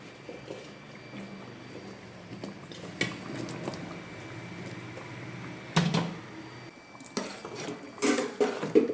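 Breadfruit curry being stirred in a pot on the stove, with quiet bubbling under scattered metal clanks of the spoon and pot, which grow busier toward the end.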